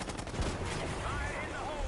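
Gunfire in Call of Duty Black Ops 6, with sharp shots early on giving way to a dense, continuous battle din, with radio-style voices faintly mixed in.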